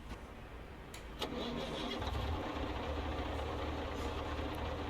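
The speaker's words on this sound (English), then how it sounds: "Let's go ahead and get her cranked up." A Freightliner FLB truck engine in American Truck Simulator cranks briefly, then catches and settles into a steady, low rumbling idle, moderately loud and close.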